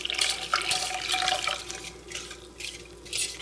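Cold water and brown sugar being stirred together in a pot, giving a continuous close liquid swish and splash with no talk.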